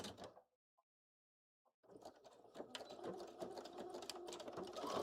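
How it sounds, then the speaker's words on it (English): A sewing machine with its bobbin winder engaged runs in a short burst, cuts out into near silence, then starts again with a close, steady mechanical whir and rattle. "The bobbin winder is still on."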